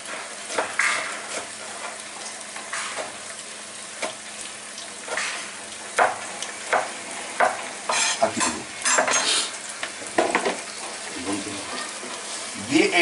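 Chicken jhal fry stir-fried in a pan with spices and oil, giving a continuous sizzle broken by scraping and stirring clatter, while a voice talks intermittently over it.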